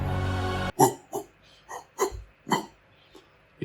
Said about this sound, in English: it is some barking sound effects of what I just did